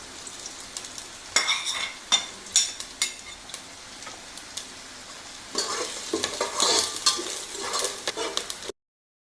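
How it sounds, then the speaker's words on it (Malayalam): Whole spices and dried lime hit hot ghee in a pan, sizzling and crackling while a spoon stirs with sharp scraping strokes, loudest toward the end before cutting off. "നമ്മളിതിലേക്ക് സ്പൈസസും പിന്നെ ഉണക്കനാരങ്ങയും നമ്മൾ ചേർത്ത് കൊടുക്കാം."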